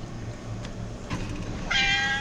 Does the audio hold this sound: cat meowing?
yes